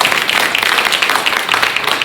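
Applause for school board candidates at a North Carolina public meeting, a dense burst of clapping from a seated audience that stays steady and fairly loud for about two seconds.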